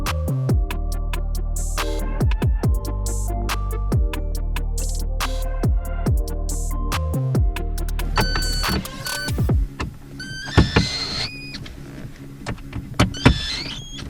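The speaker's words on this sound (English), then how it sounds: "Put your 3 screws in from the bottom." Power screwdriver or drill whirring in short bursts while fastening three screws from underneath into the passenger-side dash of a Dodge Neon SRT-4 during an airbag delete, loud and close, with clicks and rattles of trim between runs.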